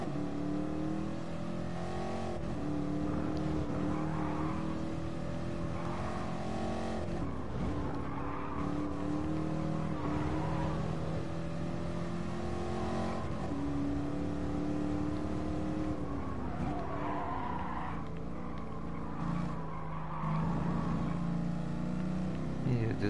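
A Corvette races around the Nürburgring Nordschleife in a video game, its engine droning continuously and rising and falling through gear changes, loud throughout with tyre noise and someone speaking over it.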